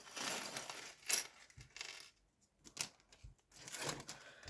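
Small hard plastic toy pieces clatter and rattle out of a packet in a few bursts, bright and close, with short pauses between pours.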